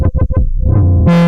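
Feedback effect on a Studio Electronics Tonestar 2600 synthesizer: a few short, loud distorted notes with pitch swoops, then a sustained buzzing tone swelling into a bright, harsh feedback squeal at the end.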